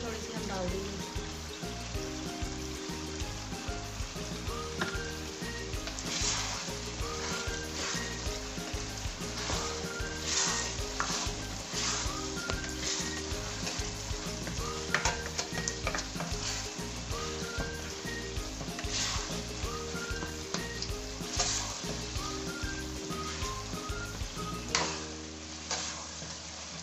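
Whole chillies sizzling and frying in a pan of spicy Pakistani bhuna qeema, a continuous crackling sizzle with rapid ticking pops throughout, close and steady.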